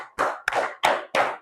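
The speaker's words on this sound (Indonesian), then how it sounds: "Tepuk 1, tepuk 2, tepuk 3, tepuk 4, tepuk 5. 2 kali tepuk 5." Students in a class clap together in a rhythmic pattern, four sharp, evenly spaced group claps, each with a short ringing decay.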